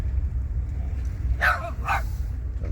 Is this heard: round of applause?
no